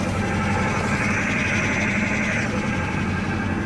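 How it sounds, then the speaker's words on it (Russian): A car engine warming up at raised fast idle, with possible head gasket or cylinder head trouble suspected, gives a steady, continuous mechanical hum at an even level throughout, with no voices. "Двигатель начал потихоньку прогреваться. Включены прогревочные обороты."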